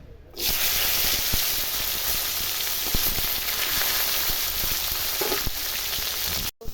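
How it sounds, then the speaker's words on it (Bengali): Loud, continuous hiss and crackle of moringa drumsticks frying in oil already used for frying potatoes, close by, with small pops and clicks scattered through it. "দেখুন ওই আলু ভাজার তেলে আমি ডাঁটা ভেজে নেব"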